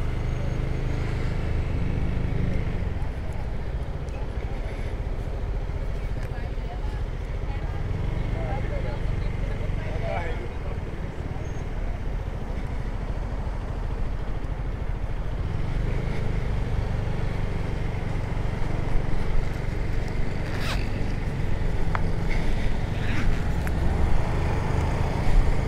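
Zontes 350E motorcycle with a CVT transmission, ridden two-up, giving a steady engine drone and road and wind noise throughout while someone talks over it.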